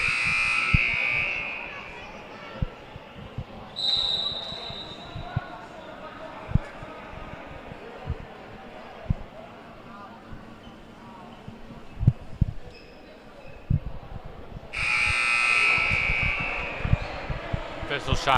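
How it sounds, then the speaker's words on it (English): A scoreboard buzzer blares at a men's college basketball game between Sauk Valley and Daley College: one long, loud electronic tone at the start and another near the end, with commentary and gym noise between. "That was the second buzzer."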